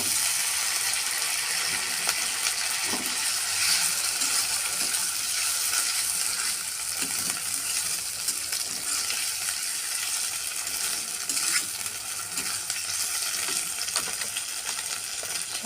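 Chopped tomato, ginger and garlic frying in a pan: a steady, close sizzle with crackling spatter running continuously, no voices.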